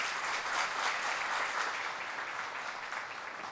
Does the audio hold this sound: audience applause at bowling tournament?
yes